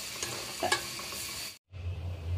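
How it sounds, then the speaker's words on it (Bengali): Frying onion beresta being stirred in a pan, with a few scraping strokes over a steady sizzle, close by, broken by a brief silent gap before the frying noise resumes. "আর কিছুক্ষণ পর পর এগুলোকে নাড়াচাড়া করে দিতে হবে"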